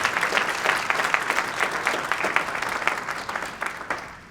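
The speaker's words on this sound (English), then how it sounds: "Let's give them a round of applause," Audience applause at a university Black History Month morning program, a steady burst of clapping from a crowd that holds for several seconds and then starts to thin toward the end.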